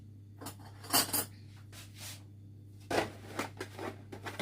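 A spoon stirring a cup of tea, with light metallic clinks and scraping taps against the cup, in two short bursts over a quiet background hum.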